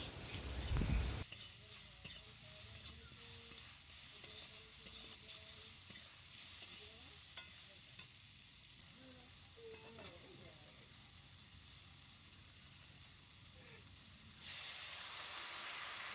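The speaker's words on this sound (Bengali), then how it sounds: "আমগুলো তেলের সাথে ভালো করে ভেজে নিচ্ছি" Mango pieces fry in hot oil in a pan, giving a steady soft sizzle and hiss throughout, with occasional stirring scrapes and a brief louder clatter near the start.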